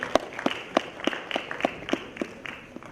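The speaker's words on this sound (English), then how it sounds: "A round of applause" A panel-discussion audience claps for the panel chair, with sparse, distinct handclaps at a steady pace, fairly close and moderately loud.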